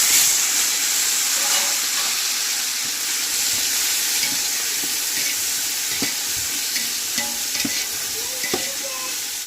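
Tomatoes, about 400 grams, hit a hot pot of chicken biryani base in a village-style cooking setup, giving a steady loud sizzle and hiss with occasional stirring clinks throughout, no voices.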